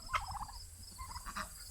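Turkeys on a farm gobble in two short bursts, one near the start and another about a second later, with soft rustling in between and no talking.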